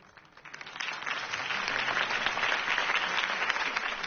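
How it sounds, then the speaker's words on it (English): A crowd applauds after a campaign speech at a city rally, a dense clapping that builds quickly from quiet and holds steady and fairly close. "could have heard that applause"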